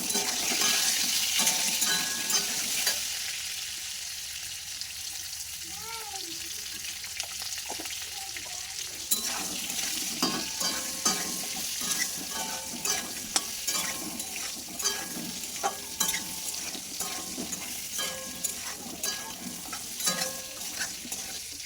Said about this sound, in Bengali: পটলগুলোকে একটু অনবরত নাড়াচাড়া করে এরকম লাল লাল করে একটু ভেজে নেবেন